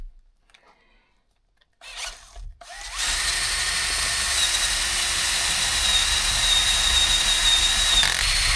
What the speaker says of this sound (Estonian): on nii, et proovime teda puurida.